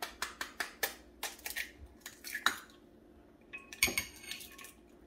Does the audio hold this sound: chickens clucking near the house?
no